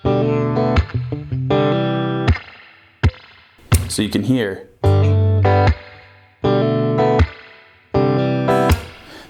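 Electric guitar riff played with thumb muting and processed through effects: short, punchy chordal bursts cut off by muted gaps, ringing loud and close, with a brief spoken voice at the start.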